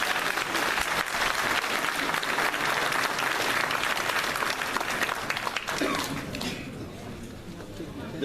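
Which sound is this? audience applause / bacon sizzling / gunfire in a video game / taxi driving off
audience applause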